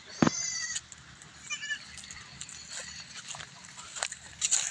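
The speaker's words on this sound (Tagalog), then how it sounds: "Doon sa kabila yung mga kambing." Goats bleating outdoors on a sparse pasture, with a loud close call at the start and then scattered fainter bleats and rustling over a low background.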